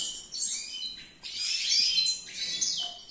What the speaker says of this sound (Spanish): Y así es como tengo yo los jilgueros